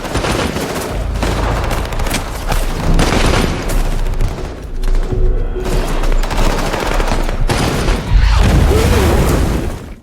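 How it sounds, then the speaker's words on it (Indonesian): Sustained gunfire from American soldiers in a Vietnam War film battle, dense overlapping bursts and booming shots continuing loudly throughout without pause. "tentara Amerika melepaskan tembakan"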